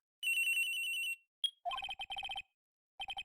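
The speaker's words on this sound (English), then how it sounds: "At around 10:30, I received a call on my cell phone." A cell phone rings in the Ace Attorney video game, a clean synthetic electronic tone held for about a second, then rapid chirping beeps in short repeated bursts with silent gaps, no talk.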